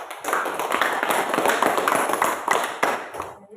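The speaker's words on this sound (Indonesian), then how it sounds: "Ya, kita beri aplaus untuk" A church congregation claps together in sustained, dense applause that holds steady for a few seconds, then thins out and fades at the end.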